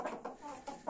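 A chicken on a farm clucks softly several times in quick succession, faint and a little distant, with no talking over it.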